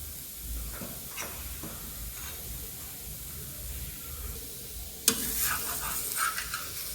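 A cucumber thalipeeth cooks on a griddle with a low, faint sizzle, then butter goes on at once with a sharp crackle and a brighter, livelier sizzle afterward.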